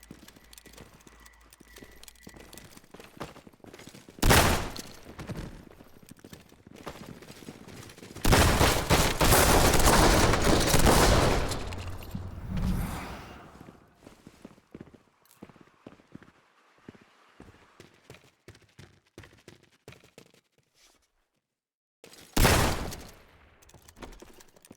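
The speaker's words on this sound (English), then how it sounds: "I need to aim my shots." Gunfire in the top-down game Hotline Miami: a sharp shot, then a long, loud burst of rapid firing lasting several seconds. Scattered quieter clicks and impacts follow, then a brief silence, then one more loud shot near the end.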